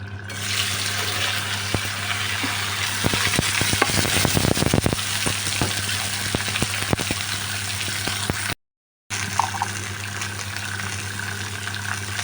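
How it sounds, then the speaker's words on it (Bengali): Mixed vegetables sizzle steadily in hot oil for Bengali fish chorchori, with a stretch of scraping, clattering stirs in the middle over a continuous frying hiss. "নাড়াচাড়া করে আস্তে আস্তে সব সবজিগুলো একবারে মিশিয়ে দিলাম"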